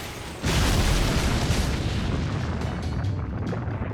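Magical energy blasts hit in the Fate/Grand Order game, a sudden heavy boom that kicks in after a brief lull and rolls on as a dense, loud rumbling roar that slowly thins out.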